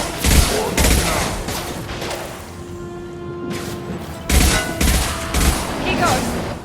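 Gunfire in the video game Mass Effect 2: heavy bursts of shots in two clusters, a quieter stretch between them with a steady tone, and voices speaking over the combat.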